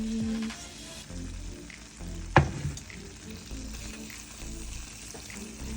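Vegetables sautéed until tender sizzling in a pan, a continuous moderate frying hiss with one sharp clatter of a utensil midway and faint stirring, close, no talk.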